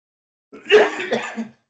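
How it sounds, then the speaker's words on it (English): A single close, loud cough, a rough throat-clearing burst lasting about a second, with silence around it. "I'm still coughing."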